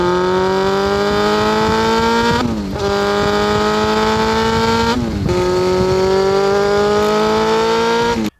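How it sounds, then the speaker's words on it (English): A 2005 Honda CB600F motorcycle with its original exhaust revs up in long rising sweeps, dropping briefly between three pulls, a strong harmonic exhaust drone throughout. "This Honda has the original exhaust, but it still sounds pretty alright."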